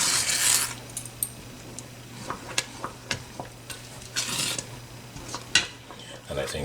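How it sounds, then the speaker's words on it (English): A spoon works slowly through thick custard in a pot on the stove, giving soft scraping strokes and light clinks against the metal at an irregular pace, close up and fairly quiet with a low steady hum underneath. "Then you start stirring again."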